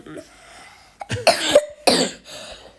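Two sharp, loud coughs in quick succession, close up, with quieter breathy noise and faint background voices around them.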